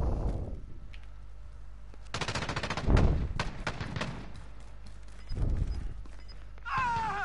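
Bursts of gunfire in Call of Duty Warzone, with several rapid volleys of shots at moderate distance separated by quieter gaps and background game ambience.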